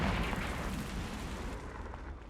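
A Confringo fire spell in Hogwarts Legacy bursts with a loud fiery blast, a dense explosive whoosh that starts strong and decays over a couple of seconds.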